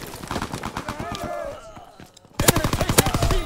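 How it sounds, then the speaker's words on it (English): Rapid automatic gunfire in a World War II video game, a steady rattle of shots that drops off briefly, then returns louder and closer. "Why is he always shooting at me?"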